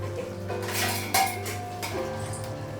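A metal lid is set onto a cooking pot, giving a couple of short clanks and scrapes close by over a steady low hum.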